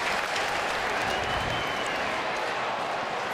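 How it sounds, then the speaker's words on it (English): Stadium crowd at an AFL match between Geelong and Sydney roars and applauds Gary Ablett leaving the field, a broad, sustained wall of cheering and clapping at constant loudness. "Crowd of cheering Gary Ablett as he comes from the field."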